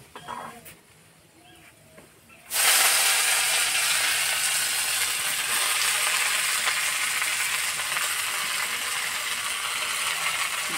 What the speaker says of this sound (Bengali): রসুন ভাজা হয়ে গেছে, এবার শাক দিয়ে দেবো।